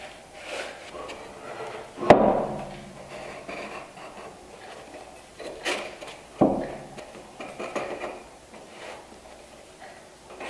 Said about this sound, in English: So I use hold fast to hold everything down.